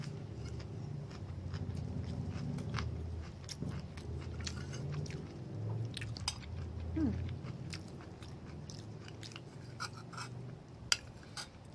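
Someone eats ginger beef and rice, with soft, close chewing and occasional crunchy, scraping mouth sounds over a low background hum, no talk.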